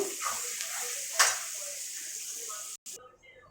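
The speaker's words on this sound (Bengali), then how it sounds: "পেঁয়াজটা লাল করে ভেজে নেব।" Onion frying in hot oil for mutton curry, a continuous near hiss and sizzle with soft stirring scrapes and a sharper crackle early on, then a sudden drop to quiet near the end.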